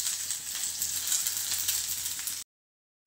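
Onion sautés in hot oil in a kadhai, giving a steady, fairly close sizzle with light stirring that stops abruptly.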